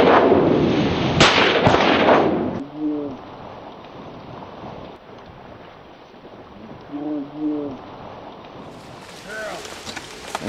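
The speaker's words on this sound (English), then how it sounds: "Nice shot, Jane." A shotgun fires while hunting wood ducks over flooded corn, making a loud sharp blast near the start amid rough outdoor noise. Quieter wavering calls and soft background sounds follow.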